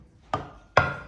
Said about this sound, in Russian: Вот так вот крупно просто нарезаю, чтобы быстро ее отварить.